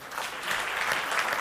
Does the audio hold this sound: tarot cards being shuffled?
no